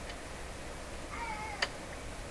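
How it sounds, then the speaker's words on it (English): A cat cries once with a faint, brief rising-and-falling meow, heard far off indoors over a steady hum while someone works on an old Canadian General Electric JK-53 radio, followed by a single sharp click. "the sound of one of my cats crying"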